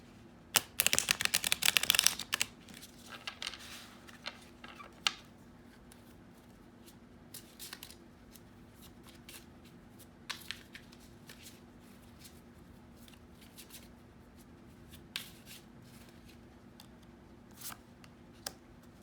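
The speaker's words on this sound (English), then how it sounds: "I'll probably just cut it in half here so I can shuffle." Cards riffled in a quick burst near the start, then sparse soft clicks and taps of handling the deck against a quiet hum.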